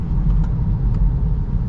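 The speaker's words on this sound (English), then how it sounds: "oh, the engine turned on there" Inside a 2023 Kia Niro PHEV on the move, the gasoline engine kicks in as a low, steady rumble under the road noise, fairly loud and continuous with no talking.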